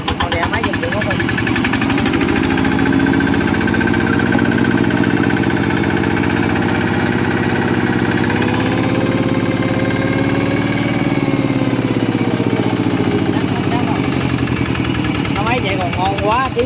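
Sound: Zanma SS 80 engine running

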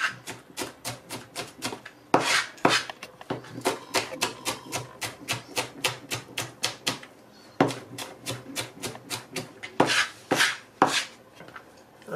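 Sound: knife chopping onion

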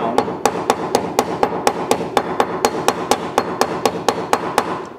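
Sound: ball peen hammer knocking down metal piece on weights

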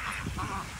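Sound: duck quacking

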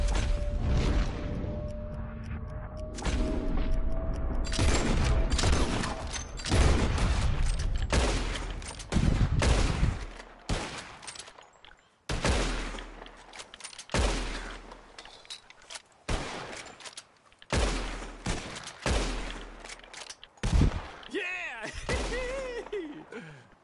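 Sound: gunfire in Red Dead Redemption 2 shooting contest, video game

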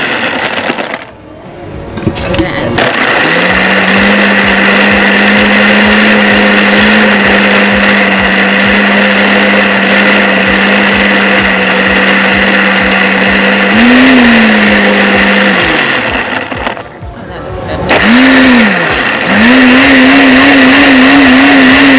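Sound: blender mixing a frozen strawberry daiquiri

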